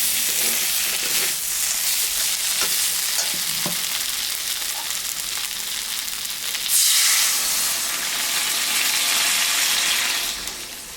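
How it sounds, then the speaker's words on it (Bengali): Water poured onto fried spice paste in a pan for a potato, tomato and puti fish curry, setting off a loud, steady sizzle with stirring that flares louder near the end. "মশলাটা কষানো হয়ে গেছে আমি এখন একটু জল দিয়ে দিব"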